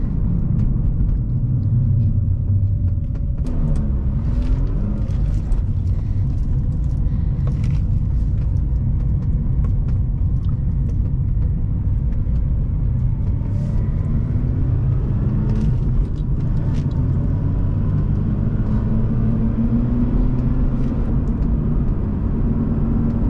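Steady low engine drone and road rumble from a 2005 Mazda RX-8 in a gentle everyday acceleration, continuous and fairly loud throughout with faint rising tones.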